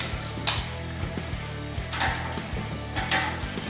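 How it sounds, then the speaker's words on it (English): A ratchet with a 15 mm socket tightens a muffler clamp on a Harley-Davidson touring motorcycle slip-on exhaust, giving quick bursts of rapid clicking separated by short pauses, close and fairly quiet. "Tighten your muffler clamp."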